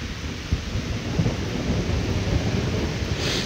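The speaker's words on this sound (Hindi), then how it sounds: "बारिश भी हो रही साथ के साथ।" Steady rain hisses over low, rolling thunder rumbling nearby in a cauliflower field, with no voices, just the continuous wash of the storm.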